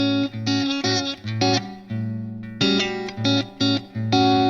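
Electric guitar with a slightly driven, effected tone plays a series of short, choppy jazz chords without the fifth, with brief gaps, some held longer, close and clear.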